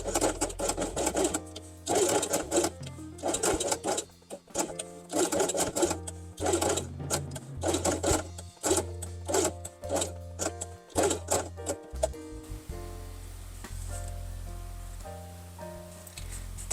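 A sewing machine stitches Velcro along the edge of a fabric quiet-book guitar page, rattling in quick bursts of rapid needle strokes separated by short pauses, then shifting to softer, slower stitching toward the end.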